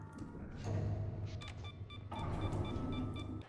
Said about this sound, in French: C'est quoi le bip là?